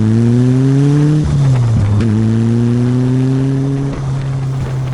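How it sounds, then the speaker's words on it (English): Caterham 7 sports car exhaust roaring loudly while driving, a steady close engine drone with harmonics that dip briefly at a gear change, then climb again under heavy wind rush. "The barking exhaust drowns out your voice, the air roars past you"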